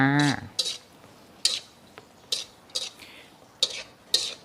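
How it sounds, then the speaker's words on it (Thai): Instant noodles with canned fish being stir-fried in a pan: a brief voice at the start, then a steady run of sharp spatula scrapes and clinks against the pan, about six, spaced evenly and close. "ผัดให้แห้ง ผัดให้แห้งเลยจ้า"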